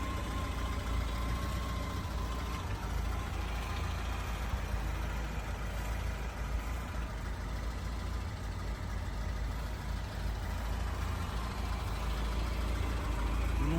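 A 1990 VAZ 2105 car engine idles quietly and steadily, a low even rumble with no voices, continuing unchanged throughout.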